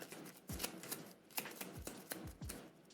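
A deck of cards being shuffled during a solo tabletop board game session, with a series of crisp riffling snaps and soft thuds repeating at close range and no talk.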